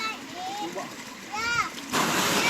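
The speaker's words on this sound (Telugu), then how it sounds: "ఆల్రెడీ నీళ్ళు ఏదో సంచులు అయితే కడుగుతున్నారు." Water splashes in short bursts as sacks of sweet potatoes are washed, with brief chirping tones and a louder rush of water near the end, under light background voices.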